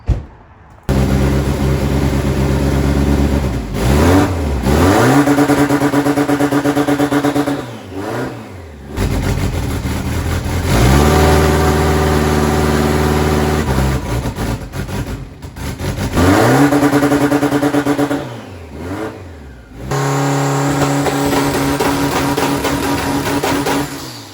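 A Mitsubishi Eclipse engine with a new large turbo revs hard several times, rising and falling in pitch with turbo whine, dropping back to idle between loud, close bursts.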